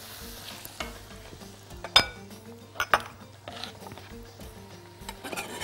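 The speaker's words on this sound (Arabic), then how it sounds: "وأقلب كده ايه تمام، انا مش عايزاهم يستووا، انا بس ايه عايزاهم يتشوحوا كده" Red onion stirred and sautéed with garlic in a pan, a low steady sizzle broken by a few sharp clinks and scrapes of the utensil against the pan.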